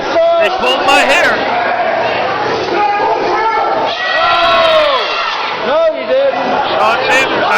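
Wrestling crowd at an underground wrestling show shouting, cheering and whooping in loud, rising waves, with a commentator's voice running over the noise throughout.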